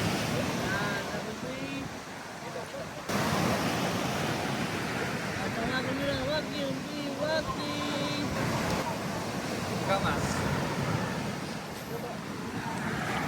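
Rough surf at Puka Beach in Boracay, a constant loud roar of waves and wind buffeting the microphone, with people talking nearby over the surf.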